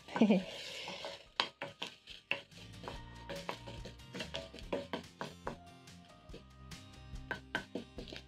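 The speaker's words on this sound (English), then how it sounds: "Add in your onions and saute until the onions are soft." Onions sautéing in butter in a pan for a sauteed carrot dish, with a soft sizzle beneath frequent close clicks and scrapes of a spoon stirring against the pan.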